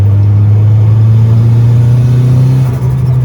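Mitsubishi 4G93 SOHC turbo engine in a budget Evo-style car pulling hard in third gear, a loud, steady droning engine note rising slightly, recorded close inside the car without talk.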